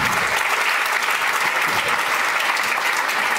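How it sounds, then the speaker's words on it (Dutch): Warm audience applause for three party leaders after a municipal election debate in Amsterdam, dense even clapping from a full room that stays loud and unbroken for a few seconds. "Geef ze een warm applaus."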